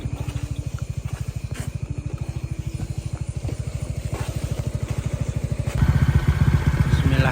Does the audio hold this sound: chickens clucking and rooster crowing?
no